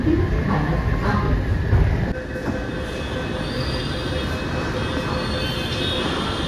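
A Mumbai Metro Line 9 train pulls into Kashigaon station, a loud rumbling roll of wheels on track with squealing and hiss that drops and settles into a steady lower drone as it slows.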